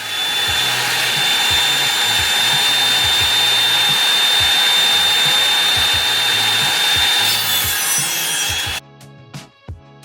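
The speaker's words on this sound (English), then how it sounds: "So I'm gonna cut some 45-degree angle braces, just 6 inches long" Power saw cutting 45-degree wooden angle braces, six inches long, for the back of a painting frame: a loud, steady whining buzz with a rasping edge that runs for about nine seconds, then cuts off, leaving a few light knocks.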